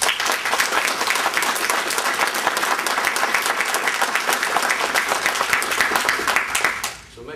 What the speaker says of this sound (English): I applaud Bill Redpath